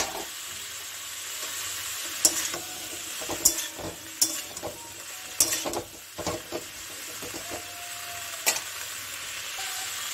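Onion stalks sizzle steadily in a hot pan for a vegetable fry, with a run of sharp spatula scrapes and clinks against the pan standing out over the continuous frying hiss; nobody speaks.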